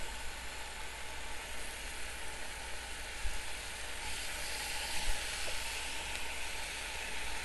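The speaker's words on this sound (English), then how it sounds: "you're just going to throw it in your frying pan any which way you want" Steady crackling sizzle of bacon frying in a hot pan, close and even, with a few faint pops and no talking.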